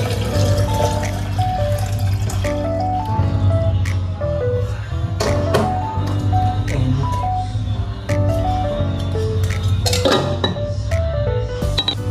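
Drinking water poured from one container into another, with gurgling liquid and frequent clinks and knocks of the vessels, close and uneven in rhythm over several seconds.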